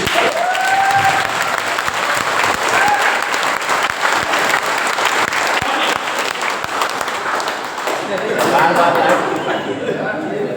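Vigorous applause from a seminar crowd with crisp individual claps close by, mixed with chatter and whistles, swelling again near the end.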